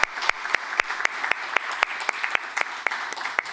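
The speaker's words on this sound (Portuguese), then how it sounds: "eu gostaria de pedir uma salva de palmas a elas" Members of an association's formal session give a round of applause, with crisp, regular claps standing out close and clear over a steady background of crowd clapping.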